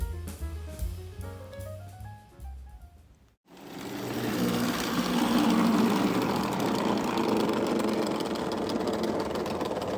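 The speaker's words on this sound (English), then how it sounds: "The two powerful motors in the Lionel F3s gave it a very distinctive sound" Twin motors of a Lionel postwar F3 Santa Fe model train locomotive: after a stretch of soft tones, a loud, steady mechanical whir and rumble starts abruptly and runs on continuously.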